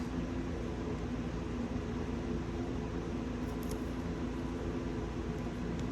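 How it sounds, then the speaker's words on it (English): A room fan and an air conditioner run together in a steady, even whoosh and hum, moderately quiet and unchanging throughout, with no voices over it. "I'm sorry for the fan noise and the air conditioner."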